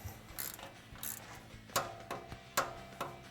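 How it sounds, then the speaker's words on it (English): A torque wrench tightens bolts on the CVT clutch of a Polaris RZR XP 900 or XP 1000, giving a few sharp ratcheting clicks and mechanical ticks, close and alone. "we'll now torque this next one to 44 foot-pounds"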